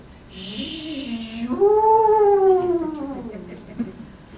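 A voice imitates howling wind: a long, rising and falling wavering moan held for several seconds, following a brief burst of breathy hiss.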